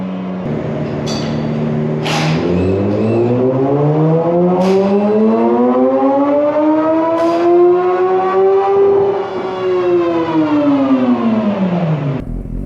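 A BMW S1000XR motorcycle engine revs on a dyno during tuning, one long loud sustained pull whose pitch climbs steadily then drops near the end, with brief sharp transients along the way.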